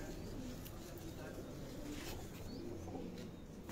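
A kamkar pigeon, a breed that also comes in pure white, coos in soft low repeated calls amid a busy, noisy loft with a steady background hum.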